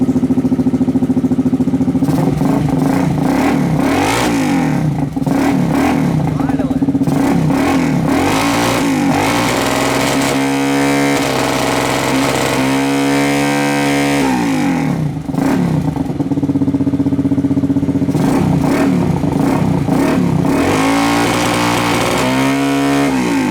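A small engine on a mini motorcycle with a pulse pump fuel problem, revved repeatedly in loud rising and falling surges that sag and bog at the top, between rough idling, no talking.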